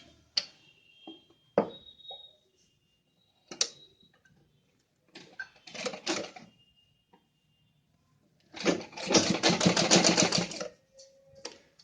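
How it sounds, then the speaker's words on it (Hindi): A sewing machine stitching fabric for a baby dress, with scattered ticks and clicks of handling, then a loud, close burst of rapid mechanical stitching near the end. "और पहले हम ये स्टेप्स यहाँ पे सिल लेंगे।"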